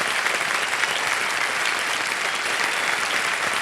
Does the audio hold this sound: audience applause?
yes